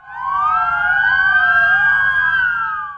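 An ambulance siren wails through heavy traffic on Istanbul's D100 highway in Maltepe, a loud, near, continuous rising and falling tone with a low traffic rumble beneath.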